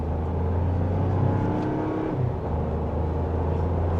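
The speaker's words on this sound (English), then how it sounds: "And just a mild acceleration, not even quarter throttle if that, and we got up to speed." A 2026 Toyota 4Runner Limited's engine under mild, light-throttle acceleration in Sport S Plus mode, heard from inside the cabin as a steady low hum with a faint rise in pitch.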